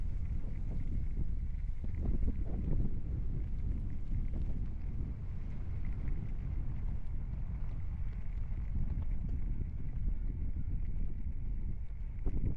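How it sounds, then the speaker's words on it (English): Blustery wind buffets the microphone outdoors at an RV campsite, a steady, heavy low rumble that fills the whole stretch with no voices. "It's getting blustery."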